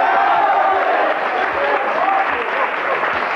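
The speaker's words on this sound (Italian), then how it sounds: "accolto da un fragoroso applauso" Thunderous applause from a 1980s Italian TV game show studio audience, a dense, loud wash of clapping that carries steadily throughout with a few crowd voices mixed in.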